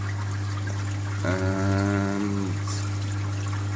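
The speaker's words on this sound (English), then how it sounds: "This is the sump. I have here circulation for water." Water circulates through a saltwater aquarium sump with filtration and a protein skimmer, making a constant low hum with a brief, louder buzzing swell in the middle.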